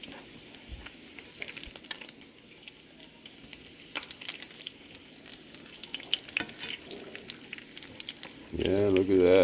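Bacon frying in a pan, a soft, intermittent sizzle with scattered pops and crackles under light talk, ending in a louder burst of sound.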